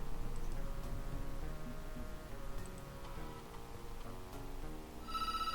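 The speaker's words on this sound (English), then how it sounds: "Huh, phone's ringing." A telephone rings in a quiet home on a cold New England winter night, a steady repeating tone over low background hum, with a brighter burst of ringing near the end.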